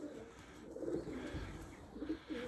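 Soft, low racing pigeon coos sound faintly close by, a few throaty rolling calls over quiet background noise.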